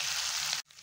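Mashed boiled potatoes hitting hot oil in a pan give a steady, close frying sizzle that cuts off abruptly, then a quieter sizzle resumes.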